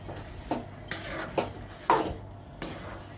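A spoon scrapes and knocks against a cooking pot while marinated chicken for butter chicken biryani is mixed with masala and salt: a few separate clinks and scrapes, moderately close, with quiet pauses between them.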